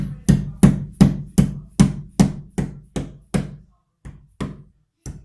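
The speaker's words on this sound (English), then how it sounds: "I'm just going to give this a few taps here with this dead blow hammer." A dead blow hammer taps a fitting into a crumbly wall while wires are being hidden, about a dozen sharp, close knocks in a steady rhythm that slows and spaces out toward the end, with no talk.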